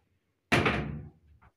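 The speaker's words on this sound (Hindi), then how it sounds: "अब दरवाज़ा बंद कर लो" A door is shut with a single loud, close thud that decays over about half a second, followed by a faint small knock, and no speech.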